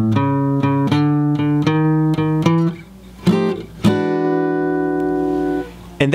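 Acoustic guitar plays a basic walk-up blues turnaround in a jazzy style, with plucked chords rising in steps and a final chord left ringing, close and alone.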